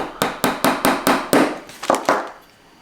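Hammering dowels into a Hengstler counter kit: about ten sharp, close strikes in a quick, slightly uneven rhythm, each decaying briefly, with no talk.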